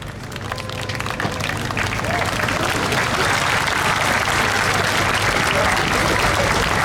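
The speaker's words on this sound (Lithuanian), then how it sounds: "Plojimais ir dovanomis padėkokime kolektyvų vadovams." An audience at the Vilkaviškis town festival applauds the leaders of local ensembles with dense, sustained clapping that swells quickly and holds steady for several seconds.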